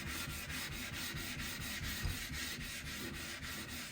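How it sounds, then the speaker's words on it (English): A whetstone's corners are chamfered with a steady, rhythmic abrasive rubbing, about three strokes per second, close and even throughout, with no voices. "And end with chamfering the corners."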